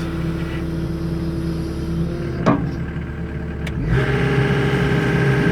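A Takeuchi TB290 excavator engine idles with a steady mid-pitched drone, then the pitch and level rise slightly near the end; no talking.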